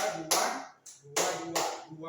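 A group of participants at a school training session in Padang Lawas, North Sumatra, clapping together in a counted pattern, three sharp, fairly close bursts of claps with short pauses between them.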